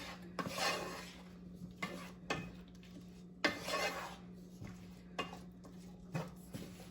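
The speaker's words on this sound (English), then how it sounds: "So we're gonna let this saute for a little bit" Food sautéing in a pot for jerk chicken pasta, with soft sizzling under repeated scraping and clinking of a utensil against the pot, close but fairly quiet, no talk.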